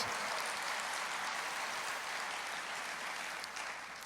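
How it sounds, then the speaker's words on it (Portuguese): A church congregation applauds during a sermon, producing steady, even clapping that sounds somewhat distant and soft with no voices over it. "Aplauda ao Senhor"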